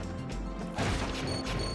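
Gargoyle statue smashed in the video game Eiyuden Chronicle Rising, a single loud crashing break with a short crumbling tail after a brief buildup of game ambience.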